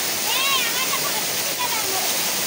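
The Havelock waterfall in the Andaman Islands pours with a steady, dense rushing roar, close and loud throughout, while people talk over it.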